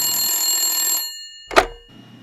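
An old telephone bell rings loudly and steadily for about a second, then falls silent, followed by a sharp clunk as the handset is picked up and a faint low hum.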